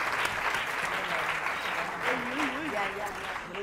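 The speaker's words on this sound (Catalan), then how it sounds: "Aplaudiment pel José." A studio audience on a Catalan TV word quiz show gives a contestant a dense, steady round of applause, with a voice talking faintly over it.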